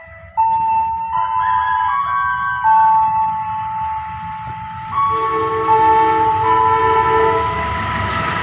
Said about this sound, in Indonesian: kereta api Ijen Express sudah melintas di stasiun Leces